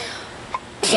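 A single sharp human sneeze bursts out near the end, loud and close, after a brief quiet breath-like intake.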